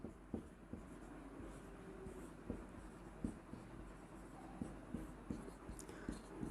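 Pen or marker writing out a Class 10 maths solution, a string of faint scratchy strokes and taps at an irregular pace, close by in a quiet room.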